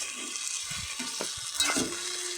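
Curry frying on a stove gives a soft sizzle broken by a few clinks and scrapes of stirring, close by and fairly quiet, with no voices.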